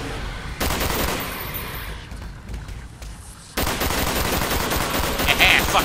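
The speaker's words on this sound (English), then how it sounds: "I'm using my least powerful gun." Rapid automatic gunfire from Call of Duty Black Ops, loud bursts of shots that cut off abruptly for a few seconds and then resume in a sustained rattling stream, with faint game sounds in the gap.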